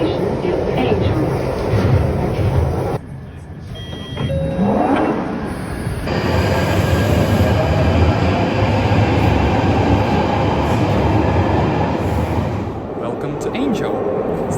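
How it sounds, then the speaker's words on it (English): London Underground Northern Line trains at Angel station, one departing and another pulling in, with loud rumbling and rising whine of motors close by, braking and platform noise continuing to the end. "My train just left and the next train is literally pulling into the station."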